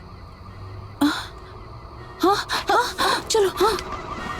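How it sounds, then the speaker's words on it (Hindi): A car alarm in a Hindi-dubbed Hollywood action film blares a rapid series of honking horn blasts, about seven in quick succession, after a single earlier honk, with brief speech heard in between. "ये कार का अलार्म है।"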